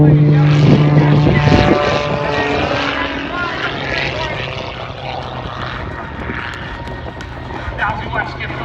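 Propeller aerobatic airplane at a night airshow, its engine roaring loudly nearby and then droning away as it maneuvers, while an announcer talks over it throughout.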